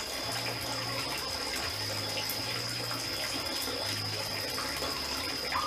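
A garden pond waterfall pours steadily into the water, a continuous splashing and gurgling wash that stays even throughout.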